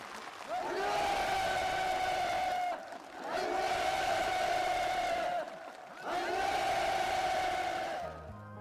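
Warm applause from a crowd of officials, builders and farm workers at a rural new-house permit ceremony, three sustained bursts of clapping separated by short pauses.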